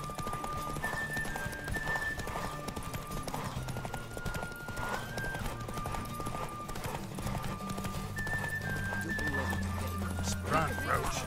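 Roach the horse gallops in The Witcher 3, with rhythmic clip-clop hoofbeats and snorts heard under game music and a voice talking over the action.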